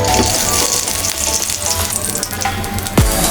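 Mustard oil hisses and crackles loudly in a pan, ready for frying puti fish, a dense continuous sizzle with a few sharp spatters and one brief pitch-sliding squeak near the end.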